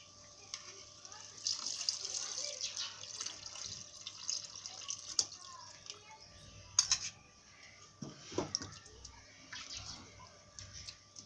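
Water pours into a mixer jar to rinse out leftover ground paste for a Malaysian chicken kurma, splashing and trickling in uneven bursts at close range.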